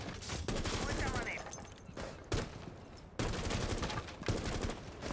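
Gunfire in a shooter video game, with rapid bursts and single shots in quick succession over busy game noise, fairly close and steady in level.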